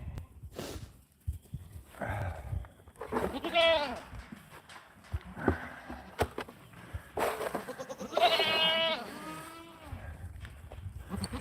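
Goats on a farm bleat repeatedly, wavering calls rising over a voice speaking nearby, with livestock shuffling in between.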